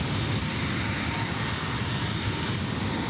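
Jet engines of an airliner at Gold Coast Airport, a loud, continuous roar that fills the whole clip without talking.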